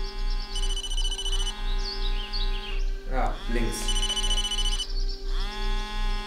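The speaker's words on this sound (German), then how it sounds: "Dein Telefon klingelt, greif es mit deiner Hand." A telephone rings in the Blair Witch VR video game, its bright repeating electronic trill sounding in regular bursts with a brief clatter midway as it is picked up, while someone speaks briefly over it.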